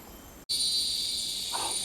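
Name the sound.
cicadas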